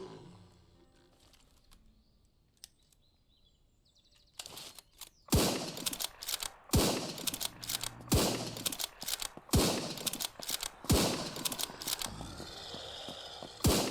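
A Winchester rifle fires repeatedly in the zombie survival shooter Surroundead: after a quiet stretch, sharp loud cracks ring out every second or so, each trailing off, with game ambience between shots.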